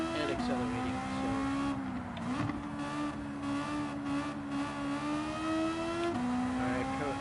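A race car engine holds a steady high whine while racing on a wet track in Gran Turismo 7, with shifts in pitch as it brakes and accelerates, and other cars faintly audible behind it.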